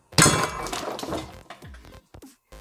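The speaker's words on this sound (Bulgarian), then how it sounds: "Взимаме чука и да видим какво ще стане като го ударим." A hammer strikes frozen banana pieces, giving one sharp, loud, close crack and shatter, then a few brief scattered clinks and knocks as the fragments settle.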